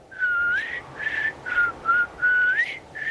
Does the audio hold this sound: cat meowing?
no